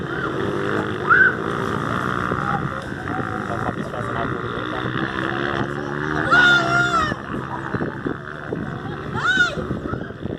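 Motocross motorcycles ride around a dirt track, including a 250, with engines revving up and down in rising and falling whines, one bike passing close with a louder surge while people talk nearby.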